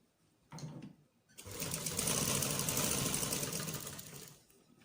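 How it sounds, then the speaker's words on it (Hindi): A short tap of handling comes first, then a sewing machine whirs loudly and steadily up close for a few seconds while stitching the front seat seam of a jumpsuit, tapering off at the end. "अब मैं फ्रंट साइड के आसन की सिलाई लगाऊंगी।"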